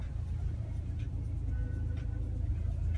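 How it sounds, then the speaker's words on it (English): A 2015 Ford Focus ST with the ST3 Recaro package pulls out of a parking lot, its steady low engine and road rumble droning close and continuous from inside the cabin. "driving the 2015 Ford Focus ST, just pulling out of a parking lot here"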